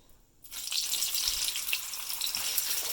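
A marinated ribeye steak is laid into hot seasoned oil and erupts into a loud, steady crackling sizzle that continues without pause.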